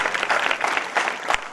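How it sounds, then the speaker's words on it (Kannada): Loud applause from an audience at a Kannada religious discourse event, dense steady clapping lasting a moment and filling the room, with no talk over it. "ಜೋರಾದ ಚಪ್ಪಾಳೆಯ ಮೂಲಕ ಅವರಿಗೆ ಅಭಿನಂದಿಸೋಣ"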